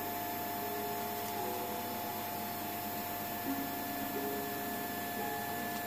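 A 3D printer starts a print, giving off a steady motor and fan whir with thin tonal stepper-motor whines that shift pitch now and then, close and constant.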